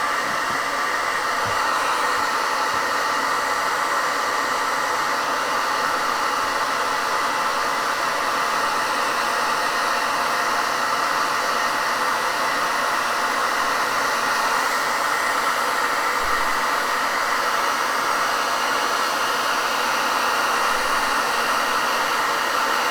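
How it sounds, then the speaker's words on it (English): Hair dryer blowing hot air to dry wet paint on a model, a loud, constant close-up whoosh with a steady motor whine, unbroken for the whole stretch. "And we'll hit that with the dryer."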